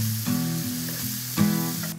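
Smoked duck sizzles as it fries in its own rendered fat with no added oil, a steady close crackle with two louder bursts as the pieces shift in the pan.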